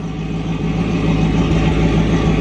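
A 1986 Chevrolet C30 dually with a turbo LS engine swap running steadily, a loud, even low rumble close by with no voices.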